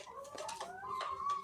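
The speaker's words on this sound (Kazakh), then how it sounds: "Міне тауықтар жем жеп жатыр" Chickens feeding on grain give faint, brief clucks and soft calls at close range, with a quiet background between the calls.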